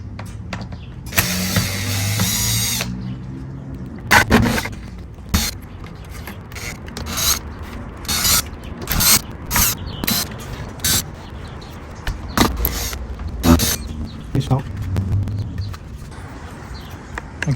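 Small screws being removed from the dash trim of a third-generation Toyota Tacoma, with scattered clicks, scrapes and rubbing of plastic, plus a few brief whirring tool bursts, close up with no talking.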